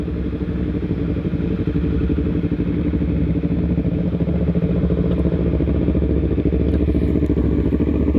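Motorcycle engine running on a Sunday morning group ride to the harbor, a loud close steady rumble with a fast even pulsing throb that continues without pause throughout.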